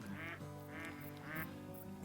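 A duck in the hunting video game theHunter: Call of the Wild, set in Layton, gives three evenly spaced nasal quacks, fairly faint, over a steady ambient hum.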